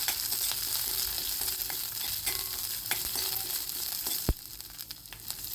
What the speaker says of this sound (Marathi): बारीक चिरलेली मिरची टाकायची आणि मिरची चांगली परतवून घ्यायची